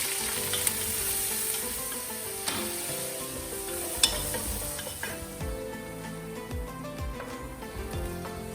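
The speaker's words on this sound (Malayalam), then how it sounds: "ഇതിലേക്ക് ഒരു 4-5 ടേബിൾ സ്പൂണോളം സൺഫ്ലവർ ഓയിൽ ഒഴിച്ചിട്ട് സവാളയൊന്ന് നല്ല സോഫ്റ്റായിട്ട് വഴറ്റിയെടുക്കണം." Onions sautéing in sunflower oil in a pan, a continuous bright sizzle with occasional stirring knocks and clinks of the utensil, close and fairly even in level.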